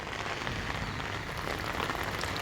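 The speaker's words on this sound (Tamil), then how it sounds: "நல்லா பாருங்கள் மழை பெய்யுது" Steady rain falls continuously, a dense even hiss of drops striking a surface, close and moderately loud throughout with no voices.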